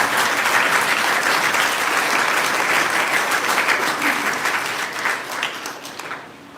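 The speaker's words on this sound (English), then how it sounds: "you must give yourselves a big round of applause for your achievement" Grade 7 learners and guests at a primary school ceremony break into sustained, loud applause, a thick even clapping that eases and thins toward the end.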